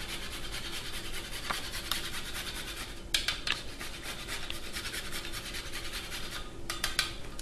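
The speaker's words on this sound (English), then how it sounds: "I just microplane the nutmeg, fresh nutmeg over the top" Fresh nutmeg rubbed over a microplane above sliced potatoes gives a steady, close rasping scrape in quick repeated strokes, with a few sharper scrapes breaking through; no voices.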